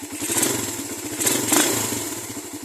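A motorcycle engine idles in neutral after an oil top-up on roughly 4000 km of old oil. It runs close and steady with a rapid, even low pulse and a faint metallic rattle over it. No voices are heard.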